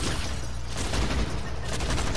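Rapid gunfire crackles through a squad firefight in a shooter video game, a dense loud burst of shots running the whole short stretch.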